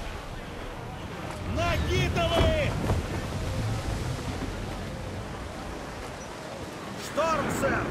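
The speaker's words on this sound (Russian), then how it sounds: "Шторм, сэр! Плохо дело!" Storm at sea in Assassin's Creed IV Black Flag: a steady, close roar of gusting wind and crashing waves runs throughout, with voices calling out over it.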